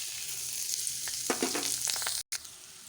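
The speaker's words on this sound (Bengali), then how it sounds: "এতে আমি এবার তেজপাতা, কাঁচা পেঁয়াজটা দিয়ে দেব" Bay leaves and thinly sliced raw onion dropped into hot oil crackle into a loud, close sizzle, with bursts of spattering and a brief drop to silence late on.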